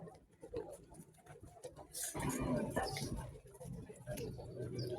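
Soft pigeon coos rise over a murmur of outdoor street noise and distant voices near café terraces in Besançon, France.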